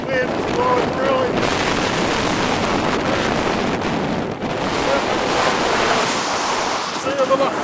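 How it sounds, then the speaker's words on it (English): Strong wind buffeting the microphone over steady rolling ocean surf on Galveston beach, Texas, on Christmas night, a loud continuous roar of rushing air and breaking waves throughout. "Wind is blowing really."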